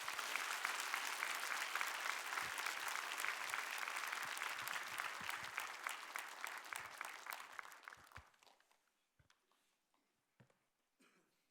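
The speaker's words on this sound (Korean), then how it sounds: "우리 사모하는 마음으로 큰 박수로 강사님을 모시도록 하겠습니다." Applause from a church congregation welcoming a guest preacher to a Sunday worship service, sustained and fairly loud for about eight seconds, then quickly dying away to a few scattered claps.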